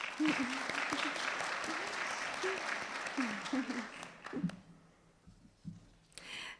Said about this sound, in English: So a special round of applause for her.